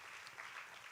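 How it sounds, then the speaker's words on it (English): A faint, distant round of applause fills a hall at a community forum on healing after hate and bullying. The steady, dense clapping runs throughout, following the introduction of the city treasurer. "Give her a round of applause"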